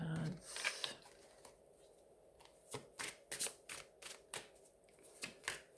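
A deck of tarot cards being shuffled up close, with a quick riffle and then repeated soft, papery flutters and slaps in short bursts.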